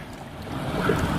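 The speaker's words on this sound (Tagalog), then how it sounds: "Ang laki ng alon yan." A boat pitching through large sea waves, with a steady rush of water, surf and wind buffeting the microphone, building slightly louder toward the end.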